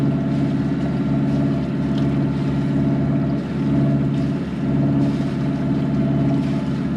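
Steady motorboat engine drone from a boat being towed along the Cape Fear River, a continuous low hum holding fairly loud and close without voices, swelling slightly as it passes.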